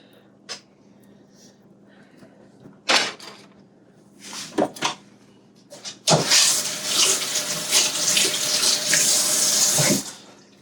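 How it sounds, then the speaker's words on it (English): Water runs from a kitchen tap into a pot of tomato paste, a loud, steady rushing stream lasting about four seconds after a few sharp knocks and clatters from handling the pot and cupboards. "I'm going to add some water and start heating it up."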